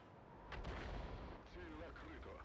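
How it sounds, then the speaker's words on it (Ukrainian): A tank cannon shot in a World of Tanks–style battle defending the Mannerheim Line: a heavy, booming report with low rumble around half a second in, followed by lingering battle noise and someone talking. "Я вирішив тут давати постріл"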